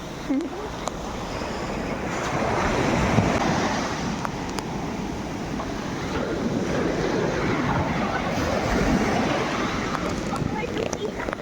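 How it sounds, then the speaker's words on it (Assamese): Large ocean waves surging high up the shore at Anjuna Beach, Goa, a steady broad wash of surf under gusty wind noise on the microphone, with a person talking over it throughout. "ঢৌটো বহুত বেছিকৈ আহিছে, একদম ওপৰলৈকে আহি গ'ল এতিয়া।"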